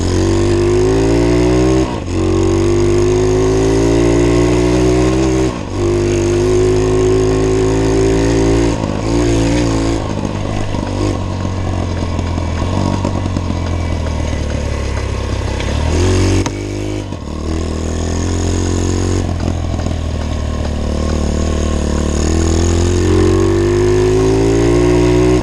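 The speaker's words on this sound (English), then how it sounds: "doesn't seem like she wants to rev out, so may have to adjust the top end a little bit." Small single-cylinder engine of a cheap $50 pit bike on its first ride, revving loudly and steadily with a buzzing drone that briefly dips and climbs again, close up and without talk.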